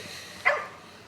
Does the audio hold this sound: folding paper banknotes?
no